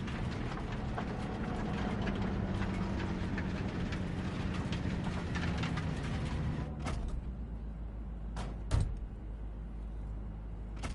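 A video game train rumbles and clatters along steadily, then quiets, followed by a couple of sharp mechanical clunks like doors or couplings.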